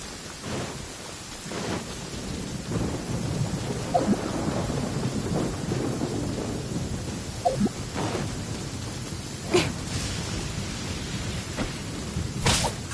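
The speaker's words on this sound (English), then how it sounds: "Quite a downpour. Nothing will get done until it clears." Heavy downpour and rolling thunder from the video game Genshin Impact: a dense, steady hiss of rain with several distant thunder rumbles and sharper cracks rising through it, no voices.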